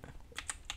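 A few quick, quiet keystrokes on a computer keyboard, typing a web address into a browser, heard close up as soft clicks in a brief burst.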